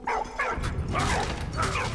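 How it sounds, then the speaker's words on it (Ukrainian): A dog in the video game Valiant Hearts gives several quick, close barks and yips in a short burst, loud and clear with no talk over them. "От ми і познайомились зі своїм найкращим другом псом."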